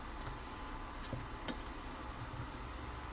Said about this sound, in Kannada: ಇದರಲ್ಲಿ ನಾನು ಒಂದು ಐದು ನಿಮಿಷ ಮಸಾಲನಲ್ಲಿ ಫ್ರೈ ಮಾಡ್ಕೊಳ್ತೀನಿ